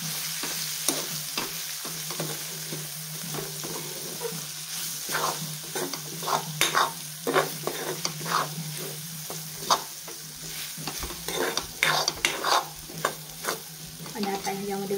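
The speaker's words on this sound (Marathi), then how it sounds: "आणि परतून घेऊया." Homemade spice masala stir-fried in a pan for a spicy Marathi capsicum curry: a continuous close sizzle broken by frequent scraping stirs and spatula taps, with no talk.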